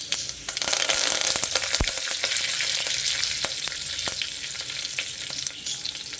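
Cumin seeds and curry leaves hit hot oil for a pulao, giving a loud close crackle and hiss that carries on steadily with scattered pops and a few stirring knocks.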